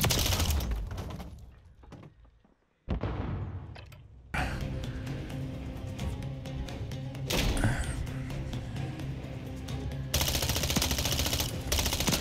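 Rapid bursts of Striker 9 SMG fire in a video game, dense rattling volleys that drop out briefly, then return loud and sustained with scattered thumps.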